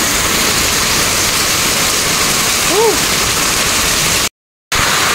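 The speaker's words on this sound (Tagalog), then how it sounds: "Grabe tong ulan na to, wala nang tigil." Heavy rain from Super Typhoon Kristine pours nonstop as a dense, steady roar of water, loud and close throughout, with a brief faint whistle-like tone partway and a short dropout near the end.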